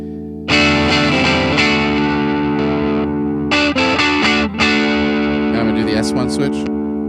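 Fender Baja 60s Telecaster on both pickups, a full, distorted tone, a sustained chord ringing out and then choppy strums and note flurries, played loud and steady.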